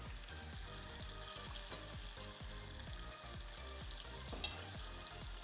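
Chicken sizzles and crackles steadily in a hot pan, a close, busy frying sound with rapid pops throughout and no voices.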